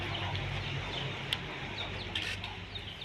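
Ducks and chickens clucking and calling around a burned-out village house, a dense, continuous chatter of fowl close by with a couple of sharper squawks rising out of it.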